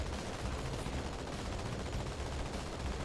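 Gunfire from a vehicle combat video game sounds as a dense, continuous rattle of rapid shots and bursts, fairly faint and without talking.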